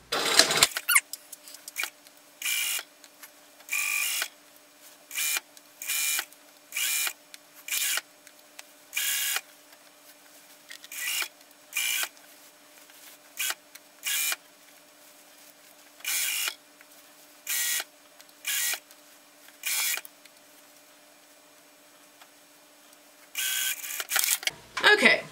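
Home sewing machine stitching a pencil skirt to its lining across a zipper while attaching a Petersham waist facing, running in short repeated bursts with pauses between, a steady low motor hum underneath, close and fairly quiet.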